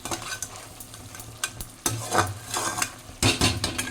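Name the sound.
prawns cooking in a pan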